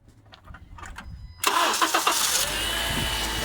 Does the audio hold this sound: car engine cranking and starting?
yes